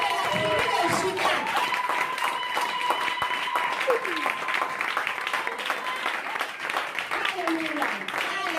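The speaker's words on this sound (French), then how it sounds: "Give a hand for the King of Kings." Dense applause from a church congregation during a bilingual worship service, with continuous clapping, shouts and voices mixed in, and speech heard over the top.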